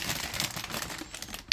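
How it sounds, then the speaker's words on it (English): Shiny plastic bag holding pearly model kit parts for a Bandai Blue Eyes White Dragon Figure-rise kit crinkles in close, continuous rustling bursts, ending with a sharper crackle. "Very noisy plastic bag."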